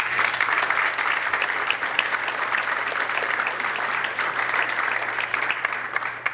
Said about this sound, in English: So I want to give them a hand of applause.